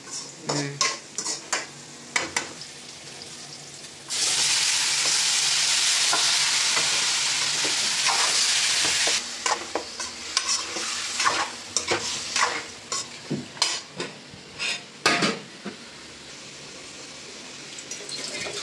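Food fries in a pan with a loud continuous sizzle that surges for several seconds, broken by clanks of a utensil against the pan, with brief voices nearby.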